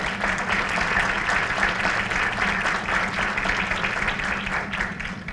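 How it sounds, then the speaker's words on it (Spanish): An audience at a Mexican municipal strengthening forum applauds a speaker, steady dense clapping filling the room throughout at moderate loudness. "A quien pido un fuerte aplauso,"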